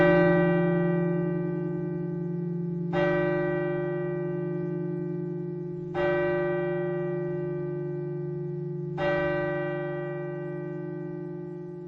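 A church bell tolls four times at steady intervals of about three seconds, each strike loud with a long ringing hum that carries between strokes, with no talking.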